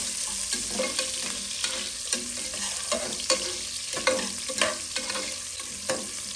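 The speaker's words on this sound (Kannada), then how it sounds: "ನೆಕ್ಸ್ಟ್ ಅದಾದಮೇಲೆ ಸ್ವಲ್ಪ ಈರುಳ್ಳಿ ಹಾಕಿ ಚೆನ್ನಾಗಿ ಅದನ್ನು ಆಡಿಸ್ಕೊಳ್ಬೇಕು." Onions sizzle in hot oil in a cooker for mutton keema curry while a spoon stirs them, making a steady frying hiss broken by repeated scraping strokes at an irregular rhythm, close and moderately loud.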